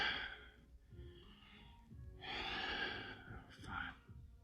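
Deep breaths drawn in and pushed out during a vinyasa yoga flow, several audible inhales and exhales at close range, rhythmic and fairly loud, with soft background noise between them.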